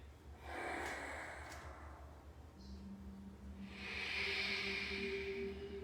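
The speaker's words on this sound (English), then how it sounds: "Just breathing." Slow, deep breathing during a yoga session: a soft breathy inhale, a pause, then a long airy hissing exhale, close and steady with no talking.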